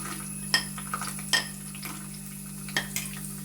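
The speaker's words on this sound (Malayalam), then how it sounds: "തേങ്ങാക്കൊത്ത് ഇട്ട് കൊടുക്കാം ഇനി നമുക്ക് അണ്ടിപ്പരിപ്പ് ഇട്ട് കൊടുക്കാം" Coconut pieces and cashew nuts frying in a pan for payasam: a quiet, steady sizzle broken by a few sharp clinks of a stirring spoon.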